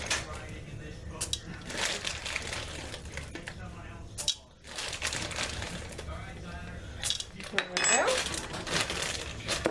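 White and milk chocolate chips are added to a mixture for energy protein bites, making scattered light clinks and rattles against the bowl in a few short bursts while a person talks.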